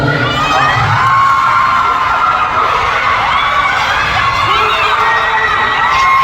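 A crowd of fans cheers, screams and shouts continuously at a K-pop world tour press conference in Manila, loud and sustained with high-pitched yells throughout.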